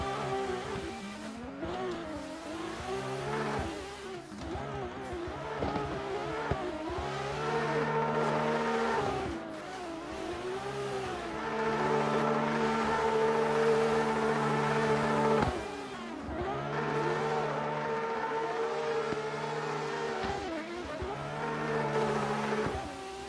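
A Subaru BRZ race car laps a circuit at an Italian track during a competition practice session, its engine revving and climbing through gears in long sustained pulls, with tire squeal and a steady loud roar that rises and falls over time.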